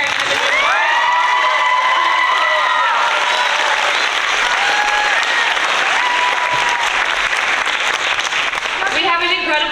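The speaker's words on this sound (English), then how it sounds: "give a round of applause for your teachers who are sitting back there" An audience at a middle school fine arts camp performance applauds the teachers, with loud sustained clapping mixed with cheers and children's shouts and voices throughout.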